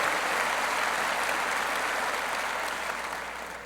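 Sustained applause from a large commencement audience at Auburn University, a dense steady wash of clapping that fills the space and begins to fade slightly toward the end.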